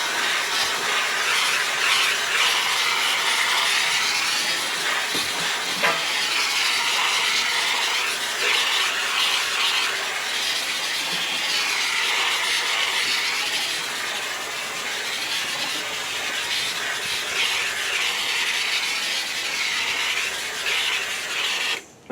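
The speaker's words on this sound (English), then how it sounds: "then I would take this steamer and then just lightly go over the panel" Handheld steam cleaner with a special head passing lightly over a car's interior plastic door panel: a continuous bright hiss of steam with slight rubbing texture, steady and close throughout.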